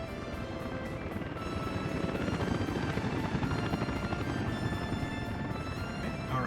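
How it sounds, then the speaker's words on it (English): Helicopters fly over a settlement in the city-building game Soviet Republic, giving a continuous rhythmic rotor thump with a faint pulsing chop, steady and moderately loud throughout, no talk. "Helicopters are doing the thing"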